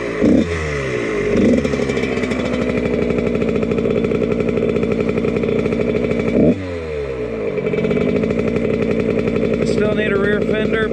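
Dirt bike fitted with a Pro Circuit exhaust, a cheap used machine, revving loudly and continuously at close range, the engine note dipping briefly and climbing again with a sharp rev near the middle.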